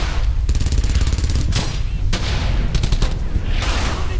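Dense gunfire in a skirmish from the war video game Brothers in Arms: Hell's Highway, with rapid machine-gun bursts and sharp shots rattling almost without pause, loud and close throughout.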